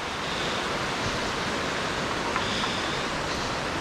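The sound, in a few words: waterfall at Falling Water Falls, Chattanooga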